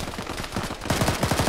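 Rapid machine-gun fire in a shooter video game, a quick rhythmic string of shots that grows louder and closer partway through, with no talking.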